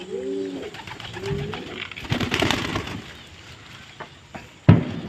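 Pigeons, including black and red birds, coo in a few low, throaty bursts near the start while being fed grain, followed by fluttering, scratchy pecking noise and a single sharp knock near the end.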